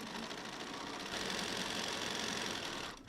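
A sewing machine with a noisy thread cutter runs at a steady mechanical hum and rattle while quilting, rising slightly in intensity partway through before stopping abruptly.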